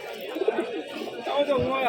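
King pigeons coo softly at the Sardah pigeon market in Rajshahi. Someone talks over the faint, brief cooing.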